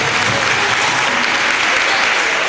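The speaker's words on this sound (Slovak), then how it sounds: "Poprosím potlesk pre všetkých tanečníkov dneska tuto u vás v Peugeote." Dense, loud applause from an audience for dancers at a show held in a Peugeot venue, continuous clapping filling the space without pause.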